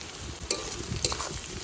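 Sliced onions with a spoonful of salt and a little cumin fry in a pan, sizzling steadily under two crisp stirring clinks of a utensil, close and without talk.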